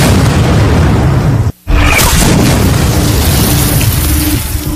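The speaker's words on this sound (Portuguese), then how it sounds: "era barrado a tiros de canhão" Cannon fire from the Battle of Gettysburg, with loud artillery booms and a dense, rumbling barrage filling the whole stretch, broken only by a brief silent gap before the firing resumes.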